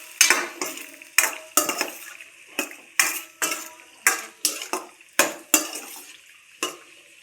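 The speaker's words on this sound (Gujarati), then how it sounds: "હવે આપણે મસાલો તૈયાર કર્યો હતો એમાં એડ કરી દઈશું અને સરસ રીતે મિક્સ કરી લેશું." Boiled pasta being mixed with masala in a pan, a steady run of about a dozen sharp spoon knocks and scrapes against the metal in regular rhythm, close and crisp with a faint sizzle beneath.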